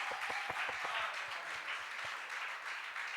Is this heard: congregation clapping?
yes